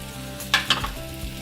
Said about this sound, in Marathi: मिक्स करून घेऊया गॅस बारीक ठेवून परतून घ्यायचं आहे